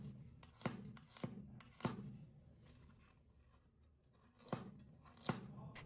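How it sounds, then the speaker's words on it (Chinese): Garlic cloves and a piece of ginger chopped with a knife on a cutting board, a few sharp, quiet, irregular chopping taps with gaps between them. "切块后再剁一剁。"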